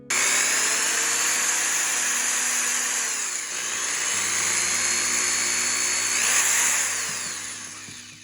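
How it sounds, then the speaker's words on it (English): A loud, high-pitched power drill whines steadily while drilling holes in a GPStar Proton Pack, dipping briefly mid-way before revving up again, with no talking. "I'm just gonna drill holes and then use my snipper."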